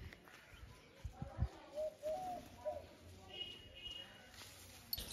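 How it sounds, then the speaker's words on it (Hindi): Birds call in a Rajasthan village, with soft cooing and faint chirps over quiet outdoor ambience, while a person talks nearby at low level. "तो ये जो आवाज सुनाई दे रही है ना, सुकून की आवाज, की चिड़िया, ये गिलहरी, ये सिर्फ गांवों में ही सुनने को मिलती है"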